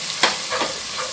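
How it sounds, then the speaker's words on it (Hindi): Chopped ginger and garlic fry in a hot pan for street-style Hyderabadi mutton chakna, giving a steady close sizzle with one sharp stir or scrape near the start and softer movement after. "अदरक लहसुन को हल्के से ब्राउन होना और कच्ची स्मेल जाना जब तक इसको फ्राई करेंगे"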